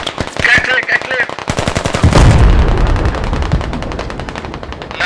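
Rapid bursts of .50 cal machine gun fire in the tactical shooter Squad, loud and close, with dense repeated shots and a heavy boom partway through. Voices talk over the opening.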